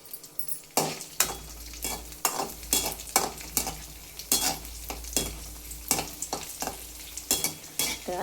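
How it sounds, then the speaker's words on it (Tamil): Raisins frying in ghee for beetroot halwa, a steady sizzle broken by repeated stirring scrapes of a spoon against the pan, close and continuous with no talking. "அடுத்து திராட்சை அதே நெய்யில் கொஞ்சம் வறுத்து வச்சுக்கலாம்."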